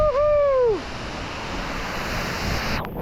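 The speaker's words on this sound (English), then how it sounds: "Standing under a waterfall." Steady rushing water roars from a waterfall at Springbrook, heard up close as a constant broadband wash, with a brief falling whoop from a person's voice at the very start.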